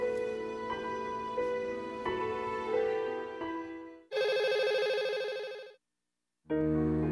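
A telephone rings unanswered, a bright electronic ring repeating in bursts with short silent gaps between, fairly close and alone with no voices.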